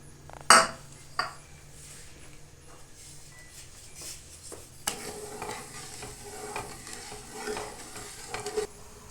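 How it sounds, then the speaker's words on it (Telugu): Sugar and water are stirred in a pan until the sugar melts: a sharp utensil clank opens, followed by repeated scraping and clinking of a spoon against the pan over a soft bubbling hiss. "దీన్ని షుగర్ మెల్ట్ అయ్యేదాకా మిక్స్ చేద్దాం"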